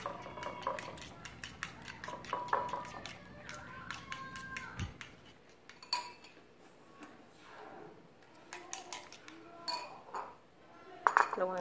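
Eggs beaten with a utensil in a bowl for a Thai omelette, with rapid light clinks and ticks of metal against the dish in quick irregular bursts, close and fairly quiet.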